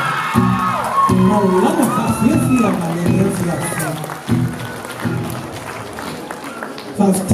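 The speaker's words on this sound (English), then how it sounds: "ladies and gentlemen, a round of applause for Nico" A crowd at a recital and dance night cheers, whoops and claps for a performer, loud shouts and high excited voices over scattered applause, with someone talking through parts of it.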